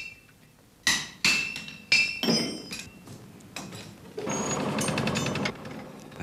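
A blacksmith's hammer rings out on an anvil at a forge in several sharp metallic blows, followed by a steady rushing whoosh of air from the bellows.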